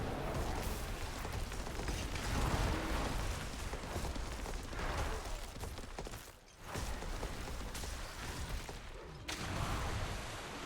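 Drowned sea hag boss fight in Diablo 4 with hardcore druid, a dense continuous roar of blasts and crashing combat effects, with a water explosion surging through and a brief dip partway.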